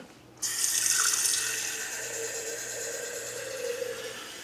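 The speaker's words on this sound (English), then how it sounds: "So you just want to pour some water in here." Water gushes from a kitchen tap, filling a pressure canner with about three quarts for canning wild Alaskan salmon; a steady loud rush starts abruptly and runs continuously, with no talking.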